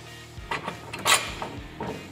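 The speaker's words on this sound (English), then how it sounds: "We'll go ahead and remove our bolt." A bolt comes out of a trailing arm on a Polaris RZR XP Turbo, heard as a few close, short metallic clicks and scrapes over about two seconds.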